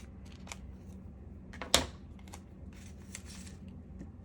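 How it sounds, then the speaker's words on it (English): A cutting tool snips away registration marks on a sheet of craft vinyl, with one crisp cut standing out among quiet rustling and light handling of the material. "I'm going to cut away the bottom of my registration marks here."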